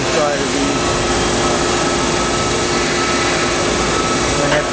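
Daewoo DMV 3016 vertical machining center with its spindle running just over 1,000 RPM, a loud, steady broadband whir and hum with a faint high tone, continuous throughout.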